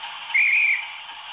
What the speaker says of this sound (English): F23 is the guard whistle.